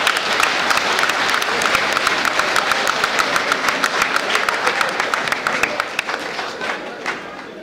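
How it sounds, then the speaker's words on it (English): Police officers gathered in a room give a sustained round of applause, a loud dense wash of many hands clapping at close range that thins slightly toward the end. "I want every living officer inside this room to give themselves a round of applause."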